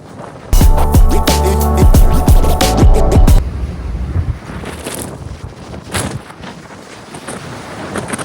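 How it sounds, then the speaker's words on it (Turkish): On a sailboat, loud rumbling wind gusts buffet the microphone at first, with sharp knocks and creaks, then ease into a softer steady whoosh of wind with occasional rattles. "Sancak tarafa gidiyorum. Rüzgar sesi bu."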